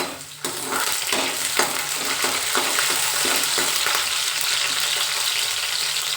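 Cumin seeds fry in hot oil for a gongura dish, a loud, continuous close-up sizzle that starts abruptly and crackles with small pops throughout, with no voices.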